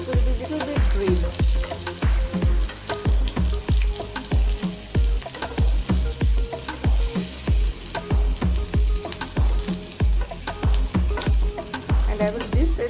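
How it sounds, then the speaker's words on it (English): Onion and tomato sizzle and fry on a grill for a chicken burger, a loud steady crackle broken by rhythmic scraping or stirring strokes, with no talking. "The onion and the tomato, it will be little bit grilled."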